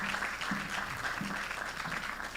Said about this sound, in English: Make that clap louder.